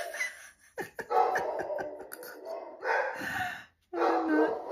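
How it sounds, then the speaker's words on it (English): A pet dog barks indoors near a home desk, a few sharp barks in separate bursts with short pauses between them, fairly close. "I also don't know what she's barking at."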